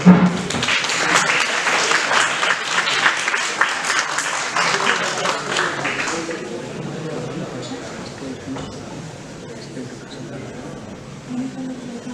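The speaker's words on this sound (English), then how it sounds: "Please have a big round of applause." Audience applause at a Human Rights Day event on contemporary human rights issues, loud and dense for about six seconds, then fading to scattered claps and room murmur with faint voices.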